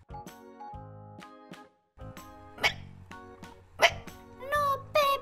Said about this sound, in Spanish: ¡Sigo teniendo hipo!